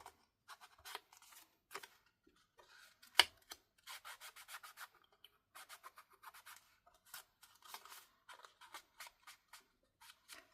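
Ink being rubbed onto paper edges with a blending tool for a distressed look: soft, quiet scratchy swipes in short rhythmic bursts, close up, with brief pauses between strokes.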